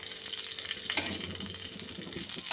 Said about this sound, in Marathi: आणि मोहरी छान तडतडली आहे, त्याच्यामुळे खमंग अशा फोडणीचा वास येत आहे